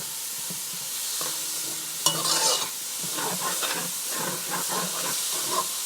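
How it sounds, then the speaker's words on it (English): Mixed vegetables for seafood rice hit a hot pan with a bright hiss and crackling sizzle, then keep frying steadily while a utensil stirs and scrapes through them with repeated clinks, close and clear without talk. "And now I'm going to add my mixed vegetables"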